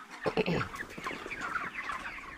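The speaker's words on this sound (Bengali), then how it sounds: "এই যে দেখেন আমার মুরগি" Broiler chickens, about 37 days old, cluck in a poultry farm shed, with several close, overlapping clucks at the start that settle into a busy, continuous murmur of the flock, with no talk.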